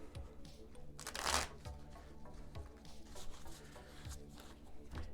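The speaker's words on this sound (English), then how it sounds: "you're going to shuffle up this deck" A deck of playing cards is shuffled for the Skull King card game, giving a close, dense riffle burst with a sharp flutter near the middle, then softer, intermittent card handling against a faint background hum.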